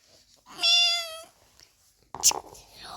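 A single drawn-out cat meow sounds close and clear, followed after a pause by a short breathy burst and soft rustling.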